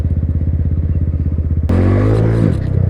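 A beginner's motorcycle idles with a steady throbbing pulse, then the throttle snaps open into a loud, rising rev during a wheelie attempt before easing back down, close and dominant throughout.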